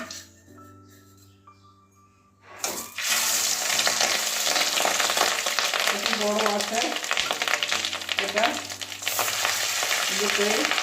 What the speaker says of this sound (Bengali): বাকি কটাও এভাবেই ভেজে নেব